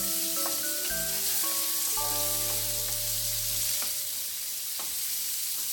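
Onion and tomato fry in a pan for chicken adobo with a dense, constant sizzle close by, while faint musical tones play underneath.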